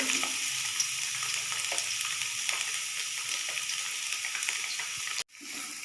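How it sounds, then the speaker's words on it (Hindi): Chopped onions sizzle steadily in hot oil, a loud, even hiss up close that cuts off abruptly near the end. "ऑयल हमारा गर्म हो चुका है। अब मैं इसके अंदर प्याज शामिल कर रही हूँ।"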